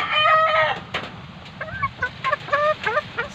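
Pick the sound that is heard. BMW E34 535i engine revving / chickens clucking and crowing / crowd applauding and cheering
chickens clucking and crowing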